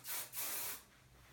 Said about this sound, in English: you want to spray your hairspray